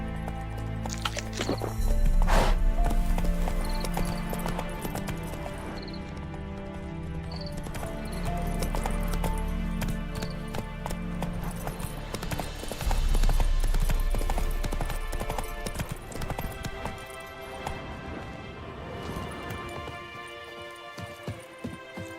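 Horse hooves clip-clop in a steady galloping rhythm in The Witcher 3, loud and close over game music, with an occasional neigh and no talk.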